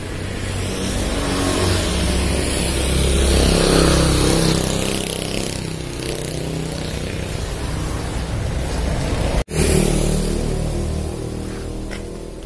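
A road vehicle's engine revs loudly and steadily as the throttle is pressed, holding a rough mid-pitched roar with a single sharp break near the end.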